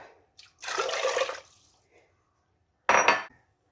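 Water poured into a pot of rasam on the stove, a short splashing pour that lasts under a second, followed after a pause by a second brief burst of water, close by and without talk.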